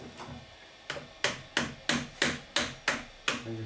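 Hammer blows forcing a part into a 1:12 scale model of a 1988 Faun F3500 wheel loader under restoration: eight sharp metallic strikes in a steady rhythm, loud and close, with one fainter tap first.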